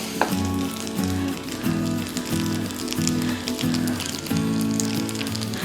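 Chicken chow mein noodles stir-frying in a pan, a continuous sizzle with a pulsing, rhythmic low hum that comes and goes beneath it and occasional tossing sounds.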